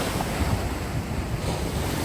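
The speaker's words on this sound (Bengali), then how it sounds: "বিশাল বড় বড় ঢেউ একের পর এক ঢেউ এসে কিন্তু এই পাড়ে আছড়ে পড়তেছে" Big Indian Ocean waves crashing on a Sri Lankan shore, a dense, roaring rush of surf with heavy wind buffeting the microphone, steady and loud throughout.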